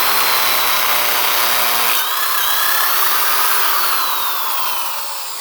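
Power drill stepping up to a larger bit on vintage dirt bike metal, a loud motor whine that briefly spins down, then a high grinding cut that tapers off near the end.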